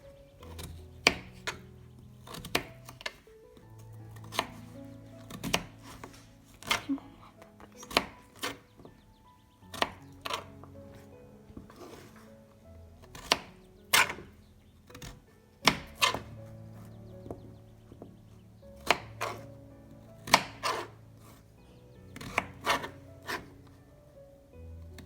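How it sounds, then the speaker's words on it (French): Potatoes being cut for a vegetable soup, a knife knocking on a board in irregular, fairly close taps spread across the whole stretch, with quiet tonal sounds underneath. "Maintenant, on va couper toutes les pommes de terre."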